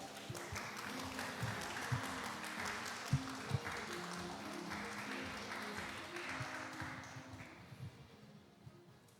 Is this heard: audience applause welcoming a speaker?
yes